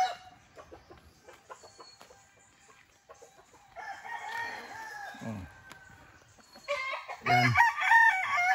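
A Boston Roundhead gamecock stag crows loudly near the end, following scattered clucks and hen chatter from a farm yard, with a brief spoken word early on.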